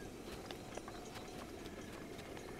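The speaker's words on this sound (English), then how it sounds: "Ooh, horses." Horses galloping in The Legend of Zelda: Breath of the Wild, a steady run of hoof clip-clops set over a dense, noisy game soundscape at moderate loudness.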